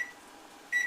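A kitchen timer on a stove sounds two short electronic beeps, one at the start and one near the end, close and clear against a quiet room.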